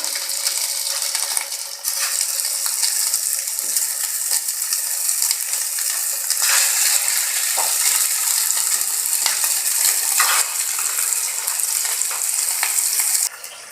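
Golla kebabs frying in about two tablespoons of oil in a frying pan, a steady, fairly loud crackling sizzle that carries on throughout with small pops and no talking.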